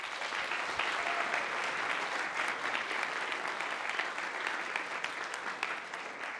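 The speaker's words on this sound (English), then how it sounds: "Can we have a round of applause?" A lecture hall audience of around 500 applauds, a broad, continuous wash of many hands clapping at an even level throughout, sounding roomy and slightly distant, with no voices standing out.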